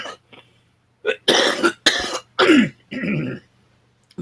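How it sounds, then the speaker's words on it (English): A man with congestive heart failure coughs in a series of harsh, close bursts with brief gaps, some with throat clearing, and no speech. "Pardon my coughing"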